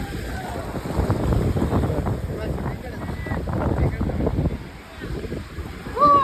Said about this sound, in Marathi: बघा लाटा किती सुसाट